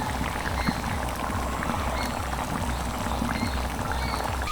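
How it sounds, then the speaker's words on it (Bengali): Ghee spooned onto hot tarka-style chana dal (split chickpea lentils) with chopped coriander, giving a steady bubbling, pouring texture that stays even and moderately loud throughout, with no voices. "দিয়ে দিচ্ছি এক চামচ ঘি"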